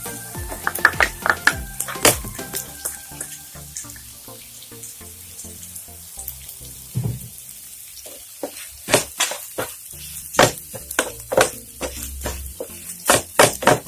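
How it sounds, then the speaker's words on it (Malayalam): Grated coconut sautés in a pan for coconut rice, with a faint sizzle beneath irregular, sharp scraping strokes of a spatula that bunch into quick flurries and then pause. "ജസ്റ്റ് ഒരു 5 മിനിറ്റ് വഴറ്റുക"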